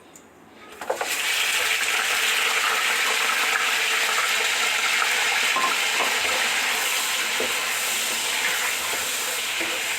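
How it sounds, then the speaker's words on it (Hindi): Large mutton pieces for korma sizzle and fry steadily in a hot pot, a loud continuous hiss starting about a second in and holding to the end, with faint clinks over it. "अब इसको थोड़ा सा फ्राई करेंगे।"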